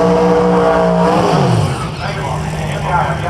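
A VS Commodore drag car with a 400 cubic inch twin turbo LS engine at a drag radial meet, its loud, steady engine roar dropping in pitch partway through while voices carry over the top.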